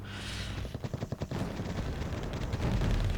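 Machine gun fire from an M551 Sheridan tank in Wargame: AirLand Battle: a quick burst of rapid shots over a dense, rumbling battlefield din, with no voices.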